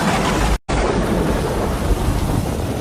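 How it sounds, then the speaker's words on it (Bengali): Heavy rain pours down in a dense, loud, unbroken roar with deep rumbling thunder beneath it, cut by one brief silent gap near the start, and no voices. "বৃষ্টি তো থামারই নাম নেই রে, বরং এখন যেন জোরে জোরে বৃষ্টি শুরু হলো"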